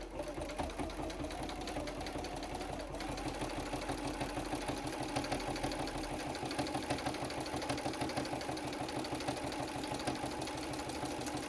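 A sewing machine stitches binding onto a quilt, running at a steady fast mechanical chatter that stays close and even throughout, with no voice over it.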